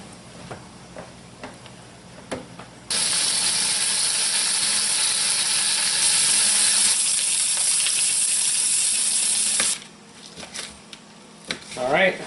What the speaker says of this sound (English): I'm going to actually slice off a little piece of this and fry it up